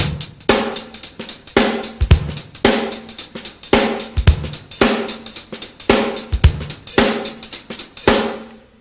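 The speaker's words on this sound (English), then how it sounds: "you could take the jazz beat and apply it to some contemporary nice grooves" Drum kit playing a jazz beat as a contemporary groove, with a steady pattern of strong snare and kick hits roughly every second under a running hi-hat and cymbal wash, close and loud, ending on a final cymbal decay.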